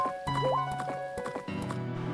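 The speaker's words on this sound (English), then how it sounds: "So we'll get back on the horse if we can. She's screaming like a banshee." A horse whinnies and neighs in a video game, with steady clip-clop hoofbeats and game background sounds under it.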